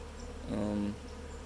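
Honeybees buzz faintly around a newly installed Flow Hive, one bee droning briefly nearer over a quiet outdoor background.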